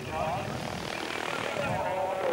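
Radio-controlled model helicopter performing an autorotation at a model flying display at La Ferté-Alais, a steady whirring rotor and engine drone that holds throughout, with a commentator's voice over it.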